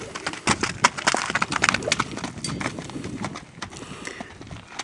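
A young horse wearing a saddle for the first time moves with clip-clopping hooves, a run of close, uneven hoof strikes that grow busier, then thin out, with faint bird chirps in the background.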